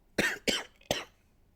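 Three quick dry coughs in close succession from a person after COVID, near and fairly loud, with silence after.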